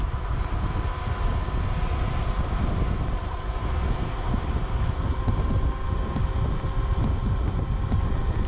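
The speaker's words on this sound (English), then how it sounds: "Wind is definitely at my back." Steady wind rushing over the microphone while riding a Dualtron 2 EX Limited dual-motor electric scooter, a continuous loud roar with low rumble and no talking.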